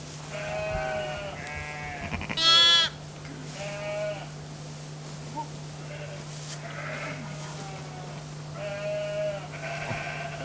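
Ewes bleat repeatedly during lambing, some calls near and loud, others softer, with a steady electrical hum beneath and voices talking between the cries.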